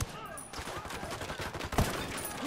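Rapid bursts of gunfire in the video game Ghost Recon, set in a casino, with repeated shots and volleys throughout and a louder crack near the end.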